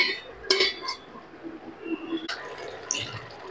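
A lid clinks onto a cooking pot of mushroom and potato curry, sharp metallic clinks and a rattle over a soft background of simmering and faint kitchen noise.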